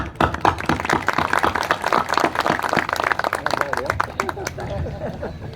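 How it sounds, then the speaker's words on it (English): An audience gives a round of applause for two honoured individuals at a hospital opening ceremony, a dense burst of clapping that fades toward the end, with voices murmuring underneath. "please give a round of applause to both of them"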